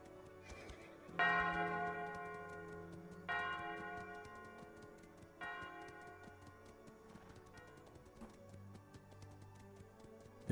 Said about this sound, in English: let's get these bells rung, and see who turns up